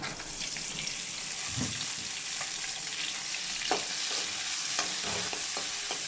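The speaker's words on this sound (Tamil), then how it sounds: "மூணு தக்காளி எடுத்திருக்கேன் அதையுமே சேர்த்துட்டு நல்லா வதக்கி விட்டுக்கலாம்" Three tomatoes sauté with softened onions in a pan for a fish curry, giving a steady, moderate hiss punctuated by several spoon scrapes and light taps from stirring.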